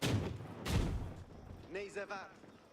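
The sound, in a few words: grenade attacks in video game Age of Empires IV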